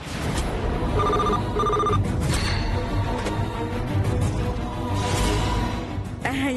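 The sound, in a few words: telephone ringing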